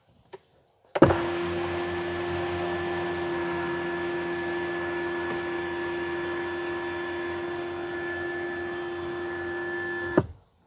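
Motorized sunshade closing on a Tesla Model Y, a steady quiet whirring hum lasting about nine seconds between soft clicks at the start and stop, close and alone.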